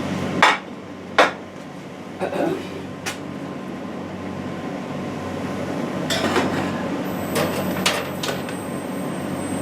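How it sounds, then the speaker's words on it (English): Metal baking pans clink and clatter into a home oven in a few sharp knocks, with a rack or door rattle and a steady fan hum beneath, all close by. "Now we're going to put all these in the oven."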